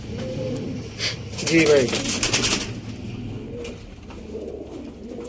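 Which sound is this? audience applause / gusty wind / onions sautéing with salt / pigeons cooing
pigeons cooing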